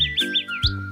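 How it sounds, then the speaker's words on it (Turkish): Birds chirp in a forest, with a few short, bright, high chirps and tweets sounding close and clear over a soft background, with no talking. "Kuşlar cik cik cik ötüyorlarmış. Birazcık onları dinleyelim mi?"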